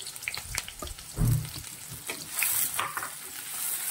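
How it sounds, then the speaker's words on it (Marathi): Onion drops into a hot pan for masoor dal, then fries in a steady crackling sizzle, with a few stirring scrapes and pops up close. "आता मी कांदा घालत आहे।"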